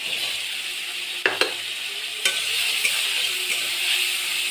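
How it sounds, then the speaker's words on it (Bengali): Hilsa fish sizzles in oil with fried onion spice paste while a utensil stirs it, a steady bright frying hiss punctuated by a few sharp scraping knocks against the pan. "এই যে পেঁয়াজ মশলা যেটা ছিল আর কি, দিয়ে এটাকে নেড়ে নেব।"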